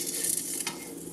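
A zucchini and potato chip sandwich sizzles and crackles steadily in a hot pan just after being flipped, a close, continuous frying hiss with a slight scrape of movement partway through.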